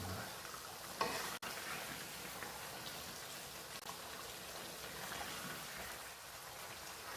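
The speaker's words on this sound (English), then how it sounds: "And then give it a good mix again." A spoon stirring lamb karahi with whole slit green chilies in a pan, a soft continuous sizzle with scraping, one sharp knock near the start, quiet and close.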